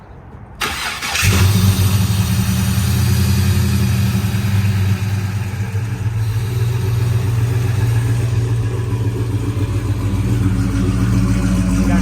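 A 1955 Chevy wagon's engine cranks and catches, then settles into a loud, steady, rumbling idle with deep exhaust burble from rear tailpipes, no voices.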